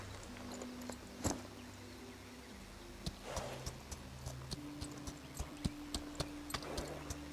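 Horse hooves clop in the video game Equinox Homecoming, sparse at first, then a steadier run of soft hoof hits over a humming background music bed.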